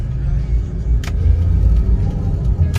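A 2004 Toyota Altis 1.6 G VVT-i pulls away in first gear, its engine a steady low rumble growing as the car accelerates, close and fairly loud with no talk over it.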